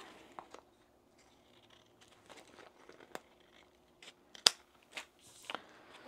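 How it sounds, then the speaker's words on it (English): Scissors trimming the edge of a fabric zip pouch shaped like a fish, a scattered series of close, crisp snips and rustles of material over a quiet background. "So we'll just trim this down."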